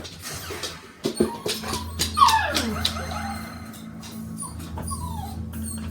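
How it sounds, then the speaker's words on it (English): A pet dog whimpers and cries close by at home, rising whines and yelps over a low hum with sharp clicks, loud and alone without talk. "Sorry if you hear crying, guys. It's my dog."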